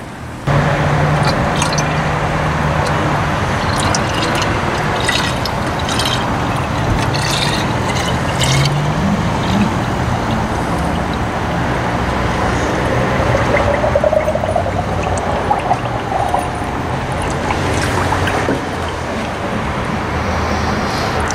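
Coolant being poured into the radiator of a 1971 Pontiac LeMans Sport after overheating problems, a continuous close gurgling, splashing pour running throughout with faint outdoor traffic noise behind it.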